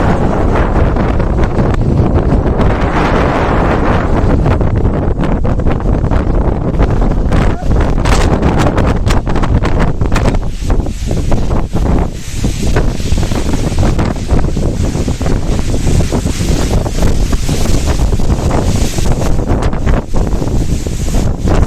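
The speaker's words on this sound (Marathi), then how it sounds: "तो हवा बघा किती सुटली, फुल थंड हवा." Strong cold wind roars steadily across the microphone on the Sajjangad hilltop at dawn, a loud, constant buffeting rush that never lets up.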